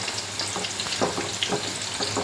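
Drumstick pieces fry in a pan with a pinch of turmeric, giving a steady close sizzle and hiss with soft stirring scrapes through it.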